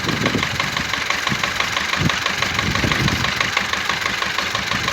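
A two-tonne tractor engine runs continuously close by, a loud, steady rumble with a rough knocking beat throughout.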